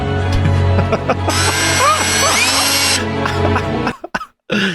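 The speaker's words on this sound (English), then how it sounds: "You gotta use power tools." A loud power tool whirs in a short burst of about two seconds amid clattering and handling noise, then cuts off, followed by a few knocks.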